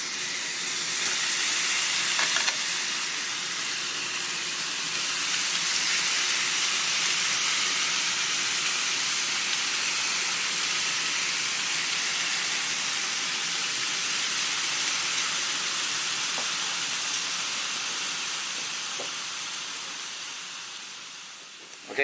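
Two sirloin steaks sizzle on an electric grill, giving a loud, steady hiss that holds constant throughout and fades slightly at the very end.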